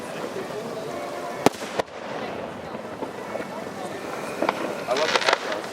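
Fireworks bursting over Portland: a couple of sharp distant bangs early on, then a cluster of crackling pops near the end, under steady outdoor background noise with people talking.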